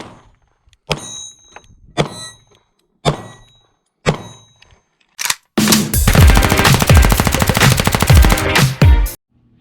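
Five sharp, evenly spaced pistol shots from a Smith and Wesson SD9VE ring out loud and close on a cold outdoor range, followed by a sustained roar of rapid gunfire.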